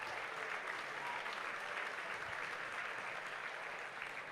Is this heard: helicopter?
no